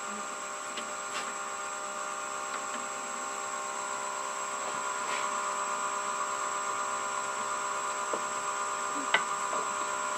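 A wood lathe spins a lamp part slowly at about 500 rpm, giving a steady, even motor whine throughout with a few faint clicks and taps.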